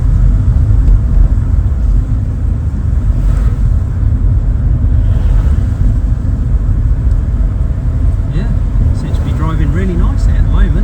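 A new car is driving along the road, with a loud, constant low rumble of road and engine noise from inside the cabin, wind buffeting the microphone, and a voice faintly present.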